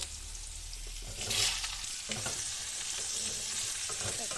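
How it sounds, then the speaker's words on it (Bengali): Pointed gourd (potol) pieces frying in hot oil in a pan, with a loud, steady sizzle and a burst of crackle as they go in, plus a few stirring scrapes. "ওই তেলের মধ্যে পটলগুলোকে ভেজে নেব"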